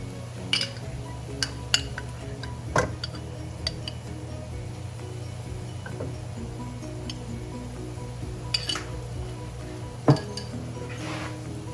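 Ginger garlic paste being stirred into a pan of browned onions, scattered clinks and scrapes of a utensil against the pan over a low steady hum of cooking.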